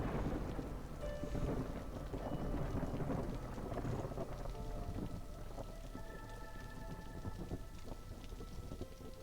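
A heavy storm of steady rain and rolling thunder from the video game Against the Storm, continuous downpour with deep rumbles throughout, no voices.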